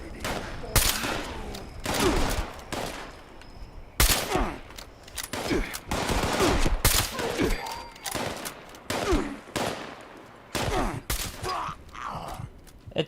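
Quad sniper rifle fire in Fallout 76 cracks out in a string of loud, sharp gunshots with decaying tails, spaced irregularly alongside other game sounds, with no talking.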